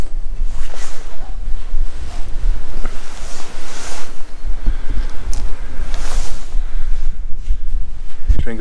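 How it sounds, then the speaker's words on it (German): Strong wind blows outdoors on a walk near a lookout tower and playground, a loud, continuous buffeting roar with heavy low rumble that lasts the whole stretch. "Ich hoffe, ihr hört das. Dass es richtig windig ist."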